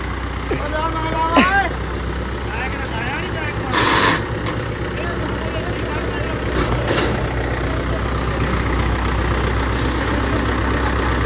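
A tractor engine idles close by in a constant low rumble, with a few brief sharp noises and faint voices over the steady drone.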